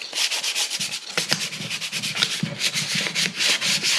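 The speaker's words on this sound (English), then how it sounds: "And you want to be sure to sand with the grain." Wood sealed with a first coat of MinWax Warm Gloss polyurethane is hand-sanded with the grain, producing rapid, rhythmic back-and-forth rasping strokes, close and fairly loud, repeating steadily with no talking.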